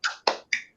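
Three sharp hand claps in a rhythmic classroom clapping chant led by a teacher, close, evenly spaced and alone with no voices.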